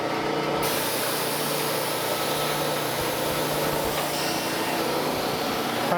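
Surface grinder taking a light finishing pass, about two ten-thousandths deep, across a camelback straightedge, giving a steady dense broadband hiss with a low constant machine hum throughout, loud and unbroken.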